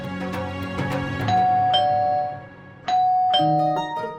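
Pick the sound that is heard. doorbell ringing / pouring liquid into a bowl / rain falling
doorbell ringing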